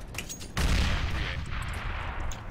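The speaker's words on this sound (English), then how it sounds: "Throwing flashbang!" A flashbang grenade goes off in Counter-Strike on the Overpass map during an ESEA pick-up match: a sudden loud burst after a brief quiet lead-in, followed by a sustained, harsh roar that lingers to the end.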